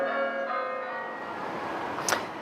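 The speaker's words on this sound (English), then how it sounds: "church bells rang at Catholic churches across Indianapolis" A Catholic church bell in Indianapolis rings for the new Pope, its long resonant tone fading out slowly, ringing overtones decaying, followed by a brief sharp noise near the end.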